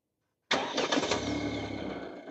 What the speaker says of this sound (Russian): Двигатель в автомобиле запущен.